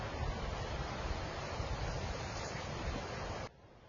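Wind gusts roar and buffet loudly for a few seconds, then cut off abruptly, leaving a much quieter background.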